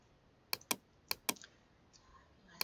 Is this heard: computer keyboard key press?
yes